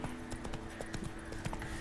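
Hoofbeats clip-clop in a steady rhythm as a horse is ridden in a PC video game, a continuous near trot over a faint background hum.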